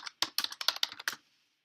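Quick bursts of keystrokes on a computer keyboard, about eight close crisp taps in an uneven rhythm lasting about a second, then silence; no voices.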